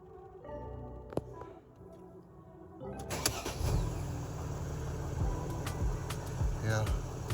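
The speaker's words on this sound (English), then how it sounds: "So we want to test by cranking the engine." Mercedes ML350 engine cranks and fires up after a battery replacement. Faint clicks in the quiet come first, then a sudden surge about midway settles into a steady, close engine run.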